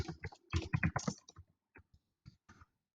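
Keys tapped on a computer keyboard while entering text into an online ad campaign form, a quick close cluster of clicks followed by a few sparse, isolated taps and then quiet.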